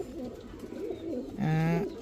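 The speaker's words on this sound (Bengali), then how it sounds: "এখন দেখাবো এক জোড়া ইন্দোনেশিয়ান তাম্বা কবুতর।" A pair of Indonesian Tamba pigeons, a breeding pair, give a short cooing call, one low sustained coo rising near the end of a brief quiet moment.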